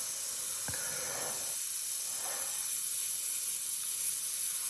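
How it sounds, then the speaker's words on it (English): An Iguana Micron airbrush with a 0.23 nozzle sprays Caribe Blue candy paint onto a mini hood, giving a steady, close hiss that runs the whole time with slight shifts in tone and no talking. "I have a Caribe Blue in my airbrush"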